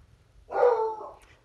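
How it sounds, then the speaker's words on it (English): One dog gives a single short bark indoors, moderately close, followed by quiet. "My dog wants someone to come and play with him."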